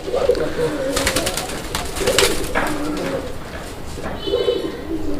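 Black pigeons coo in soft, repeated low throbbing phrases, close by, with bursts of wing flutter and scuffling between calls and steady background noise throughout.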